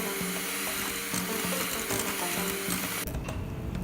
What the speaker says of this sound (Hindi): अब हमने इसे मज़ीद इतना बीट करना है कि अंडे और बटर अच्छी तरह मिक्स हो जाएं